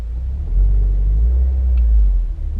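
A 2016 Subaru WRX engine idles with a deep, steady rumble from inside the cabin as the car is put in gear, a low continuous drone with slight swells and no speech.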